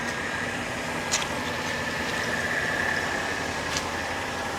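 An old Mercedes engine idles steadily and evenly, a low continuous rumble with a faint constant whine running throughout and no voices.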